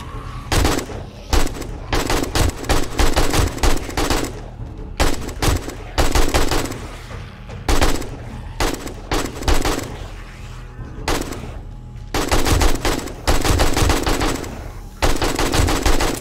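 Long, loud bursts of automatic gunfire in the zombie survival game 7 Days to Die, repeated volleys separated by short pauses over a steady low rumble.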